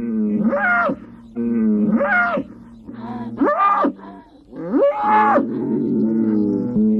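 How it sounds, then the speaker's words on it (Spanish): Fighting bulls lowing and bellowing on open pastureland in repeated long, strained calls, five or so in a row, loud and close, with a moaning, rising-and-falling tone. "Mugidos de llamada, de queja o desafío, que inundan de inquietud el sereno ambiente de la dehesa"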